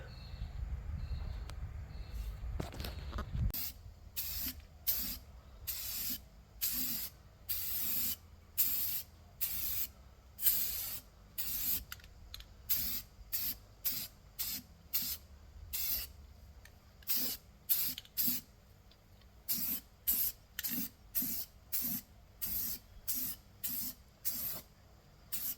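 Primer sprayed from an aerosol can onto a 1975 Holden steel wheel rim in light coats, a series of short close hissing bursts at a quick, regular rhythm with brief pauses between them, no voices.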